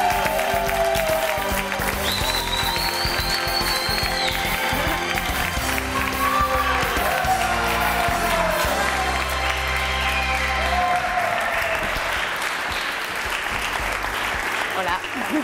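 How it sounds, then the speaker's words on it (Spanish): A studio audience on a Spanish TV talk show applauds as guest Ainhoa Arbizu arrives, broad sustained clapping heard under music and a speaking voice before fading near the end. "Un fuerte aplauso para Ainhoa Arbizu."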